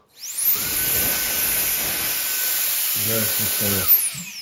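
A small electric blower used for cleaning a computer whirs up and runs with a steady high-pitched whine and airy hiss, briefly revving near the end before spinning down.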